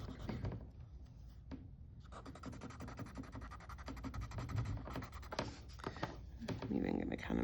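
A pencil blends and shades a sugar skull sketch on paper, a soft continuous scratching and rubbing with brief sharper strokes; a voice talks over part of it.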